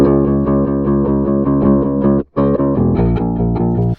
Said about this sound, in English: Here's the P-Bass again.